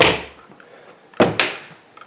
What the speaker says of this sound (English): As we open this door